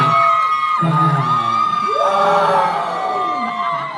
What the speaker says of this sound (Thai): ก็เลยเชียร์เสียงดังหน่อย